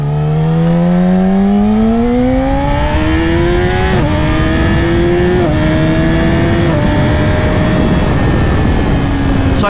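Sport motorcycle engine, a Ducati V2 or Yamaha R6 fitted with an aftermarket exhaust, revving loud and close with a rising whine and several sharp gear-shift dips, heard alone with no talk.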